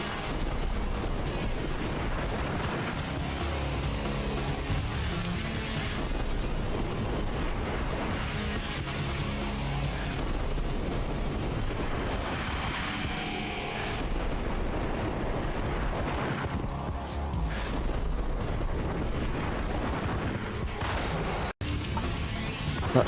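In the video game Max Payne, gunfire slowed into bullet time makes a dense, loud, continuous rumble of booming, stretched-out shots and blasts that runs throughout.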